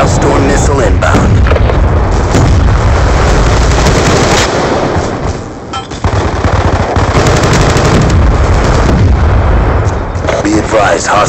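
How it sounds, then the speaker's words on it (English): Hellstorm missile strikes in Black Ops II, with booming explosions and heavy rattling gunfire in a loud, continuous barrage, briefly easing midway before surging again. "Friendly Hellstorm missile inbound."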